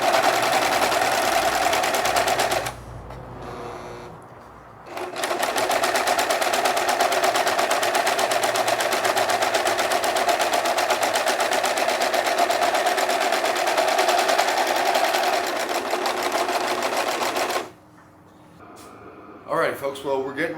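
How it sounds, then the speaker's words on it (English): A serger-style sewing machine trims and overcasts the seam edges of wool fabric for an anorak, running in a loud, steady rapid whir for long stretches, with one short pause and a quieter gap near the end. "it'll go through this machine, it'll cut the material and sew over the top, leaving me a nice finished edge looking very professional"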